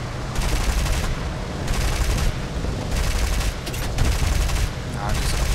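Short repeated bursts of turret machine gun fire from a Blenheim bomber in the War Thunder aircraft game, dense rattling volleys over a constant engine drone, loud and close.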